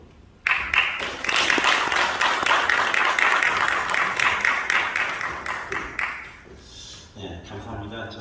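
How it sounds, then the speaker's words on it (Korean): Church seminar audience applauding to welcome a pastor to the podium, a dense steady burst of clapping from a large crowd that starts abruptly, holds for several seconds, then tapers off into room noise and talk. "나오실 때 박수로 좀 맞이해주시면 감사하겠습니다."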